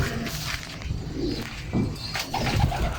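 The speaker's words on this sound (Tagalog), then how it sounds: "ayan po yung ibon. Pasukin ka na." Racing pigeon at a small loft, soft cooing and light rustling close by, quiet and intermittent over low background noise.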